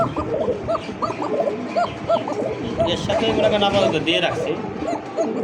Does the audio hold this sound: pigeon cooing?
yes